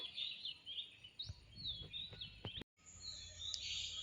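Faint, high bird chirps and short calls come and go over a quiet outdoor background in open hill country with trees and fields.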